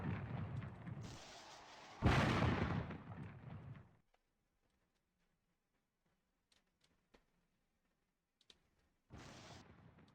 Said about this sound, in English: we are bombarding the crap out of them right now